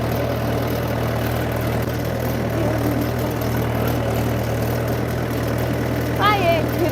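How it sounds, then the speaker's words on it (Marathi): A farm tractor's engine runs with a steady, low, even drone that holds throughout at a moderate level, with a brief high chirp near the end. "आम्ही इकडे ट्रॅक्टर घेऊन निघालो."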